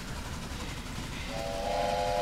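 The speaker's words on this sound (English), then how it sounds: "Even whistle with the train." A steam locomotive's whistle sounds in the Railway Empire game over a steady loud rumble of the rolling train. The tone starts partway in and holds to the end.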